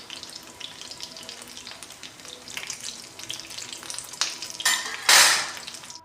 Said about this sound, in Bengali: তাহলে চলুন এগুলো সব ভেজে আমি একদম পরপর করে সব কটা তুলে রেখে দেব